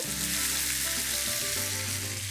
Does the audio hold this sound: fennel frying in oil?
yes